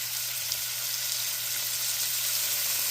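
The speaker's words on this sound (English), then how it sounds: "I want to throw a little Worcestershire sauce on the beef here while it's cooking." Ground beef for tacos frying in a pan with a splash of Worcestershire sauce, a steady loud sizzle with a low hum beneath, close and continuous, no talking.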